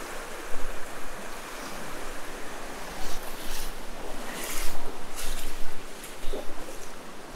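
The Caño Unión waterfall gives a steady broadband rush of flowing water, moderately loud and continuous, with gentle surges and a few brief splashy bursts.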